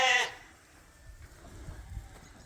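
A sheep ewe gives one short, clear bleat close by as the flock comes in on a farm, followed by quiet shuffling and faint low rustles.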